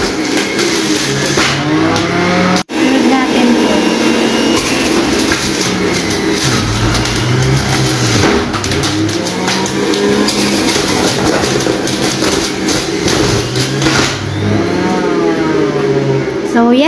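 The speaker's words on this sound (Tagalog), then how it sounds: "start na tayong using juicer mix machine" A juicer mix machine running steadily for carrot juice, a loud continuous motor whine with rising and falling tones and one brief dropout, with no talk over it.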